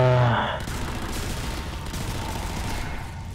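A Thompson gun fires in the video game Sniper Elite Nazi Zombie Army 2, a dense, continuous burst of automatic fire filling the clip after a brief tonal sound at the start.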